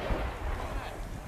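A deep, heavy boom from an SPG-9 recoilless gun firing on a military mission, one loud low blast with a rolling tail, and excited voices nearby.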